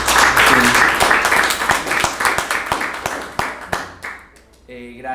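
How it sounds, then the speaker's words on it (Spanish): Audience applause at a lecture on death and burial in the nuns' convents of Michoacán: dense, steady clapping from a crowd for about four seconds, then it thins out and a voice begins speaking. "pido un aplauso"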